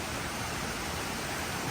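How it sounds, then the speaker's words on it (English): The upper waterfall at Uvita, Costa Rica, rushes as a steady, loud, unbroken roar of falling water with no voices. "And here is the upper waterfall"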